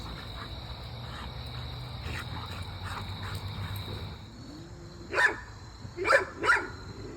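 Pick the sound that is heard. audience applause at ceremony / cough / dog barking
dog barking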